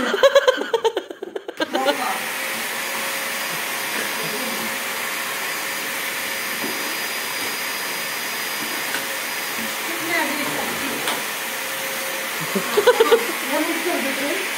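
A vacuum cleaner drones steadily and loudly for most of the clip, with brief rattling bursts near the start and end and faint laughter underneath.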